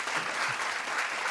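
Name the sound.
audience applause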